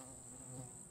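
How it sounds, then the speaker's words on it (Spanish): Insects drone and chirp in the ambient soundscape of the horror video game Pacify, a brief, steady, high buzzing tone held over a low background hum, with no voices. "Estoy escuchando grillos"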